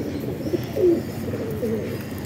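Pigeons in a loft coo softly in a few low, brief calls over a steady murmur of background noise.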